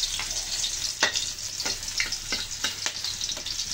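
Corned beef with egg frying in a pan, a steady sizzle with scraping stir strokes recurring at an irregular pace, close and alone.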